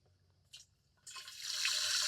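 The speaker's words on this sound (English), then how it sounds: "So let's go ahead and put some water in there." Water pours into a seed-sprouting container of moringa seeds in a greenhouse, a brief splash followed by a steady, close, rising stream that runs alone without talk.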